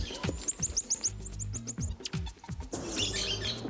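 Birds chirp and call at dawn in a house beside a large orchard in Uberlândia, Brazil. Quick high twittering runs repeat close by, over soft low thumps and a rustling background.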